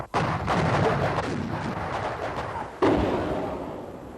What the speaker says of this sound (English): there's a right old artillery duel going on between them